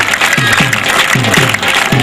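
Spectators clapping at a kabaddi match between Matwanwala and Gratian at Thanah Rod Dinga, loud and close, a steady wash of applause with a few rhythmic claps standing out.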